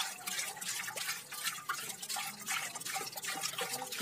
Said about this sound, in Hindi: उसमें थोड़ा सा पानी ऐड करेंगे हम।